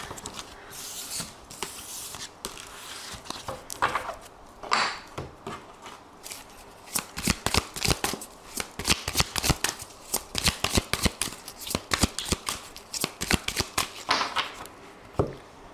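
Tarot cards shuffled by hand up close in quick, repeated riffles and flicks that grow denser toward the end, with no talking.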